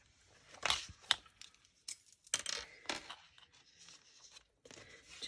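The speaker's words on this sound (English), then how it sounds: "I'm going to use my small scissors." Small scissors make quiet, close snips and crisp cuts, a few sharp clicks spaced irregularly with soft rustling between them and no talk.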